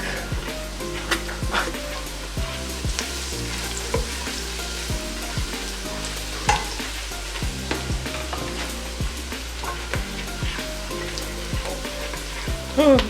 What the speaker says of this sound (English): Now we add the garlic.